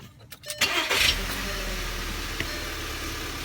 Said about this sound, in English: we're gonna start the engine and we're gonna let the engine flush stays there for 10 minutes